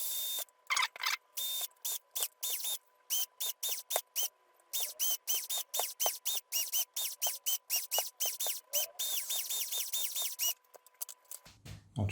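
A cordless drill whirs in many short bursts, starting and stopping repeatedly with brief pauses between, close and fairly loud.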